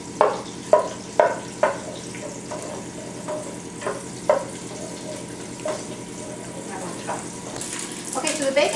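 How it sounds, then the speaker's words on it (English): Bacon sizzles and crackles steadily in a pan, close and moderately loud, with a few sharp pops and clinks near the start and a rising hiss toward the end. "So our bacon is cooking."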